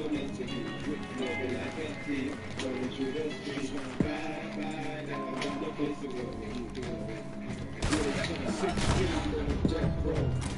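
Shotgun blasts ring out during a Red Dead Redemption 2 online showdown, punctuating a busy mix of gunfire, movement and hoofbeat-like clatter, with someone talking throughout.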